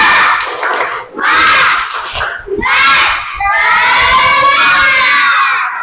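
Classroom of children chanting loudly in unison, a rhythmic clapping cheer (tepuk semangat) in short bursts, answering a teacher's spoken lead, ending in a sustained shout.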